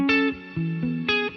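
Clean electric guitar notes run through the Walrus Audio Mako R1 reverb pedal on its hall setting, with three plucked notes ringing out close and clear and each one trailing into a spacious, lingering wash of reverb.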